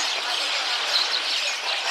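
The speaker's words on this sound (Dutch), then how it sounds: "gekooid vogeltje." A caged bird in Shanghai chirps faintly, with a few brief high tweets over a steady hiss of background noise.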